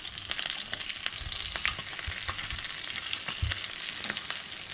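Mixed fish pieces frying in a pan for a Goan fish curry, a steady close crackle of hot oil with a few soft scrapes as the pieces are turned, no voices.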